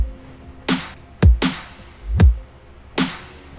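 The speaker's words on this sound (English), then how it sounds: "Something important in future bass as well is the reverse kick." In a future bass production, a reverse kick drum sample swells up and cuts off several times, alternating with deep, punchy kick hits in a sparse pattern.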